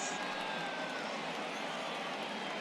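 A distant, washy stadium crowd in MLB The Show 22 rumbles and cheers steadily in a Montreal ballpark after a home run, a constant wall of noise with no distinct peaks.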